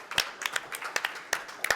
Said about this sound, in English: Let's get a round of applause for Bergie.